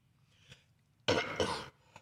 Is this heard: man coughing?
yes